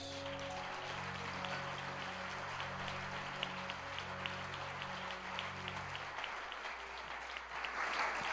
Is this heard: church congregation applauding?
yes